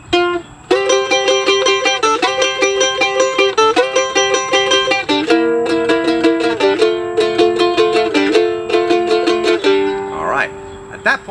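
Bluegrass mandolin plays a fiddle tune at a brisk pace, with bright, steady runs of plucked notes and rhythmic chord chops that stay loud and close throughout.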